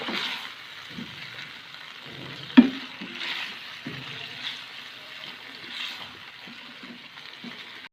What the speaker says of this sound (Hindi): मैंने इसको इतना फ्राई करना है कि इसका कलर तब्दील हो जाए,